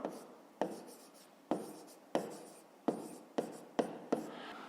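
Pen or pencil writing on paper during a fifth-grade math exercise, a close, quiet scratching that comes in repeated strokes, each starting with a soft tap as the tip meets the page, with no talking.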